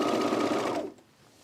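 A sewing machine runs steadily, stitching the side seam of a pre-sewn dress for about 0.8 seconds, then stops abruptly and leaves only faint room tone behind.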